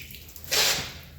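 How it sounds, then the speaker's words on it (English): Water is thrown in one quick burst onto a rusty car body, giving a short loud splash and spatter against metal with faint dripping before and after. "let's throw some water on this and see if we've done anything."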